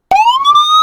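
Roblox ELS wail siren tone from a video game: a loud synthetic siren that sweeps slowly upward in pitch and holds steady, bright and close, with no talk over it.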